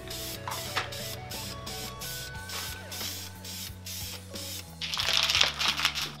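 Rust-Oleum paint plus primer sprayed from a can onto a car hood, a hissing spray under a steady mechanical hum, growing louder and brighter in the last seconds.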